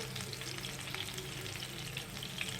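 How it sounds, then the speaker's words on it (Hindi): Beef chapli kabab frying in a pan gives a steady, dense sizzle and crackle, close and even throughout with no voices. "और फिर दूसरी तरफ से फ्राई करेंगे।"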